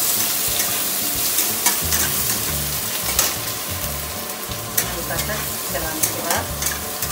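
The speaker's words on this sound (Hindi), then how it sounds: "थोड़ा सा चला देंगे इसको।" Cumin, mustard seeds, ajwain, ginger, curry leaves and finely chopped onion fry in a pan for poha. A close, continuous sizzle runs under occasional scraping knocks of a stirring spoon.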